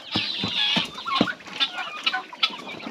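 Several turkey chicks chirp and peep in short, shrill calls, scattered irregularly and fairly close, with no talking.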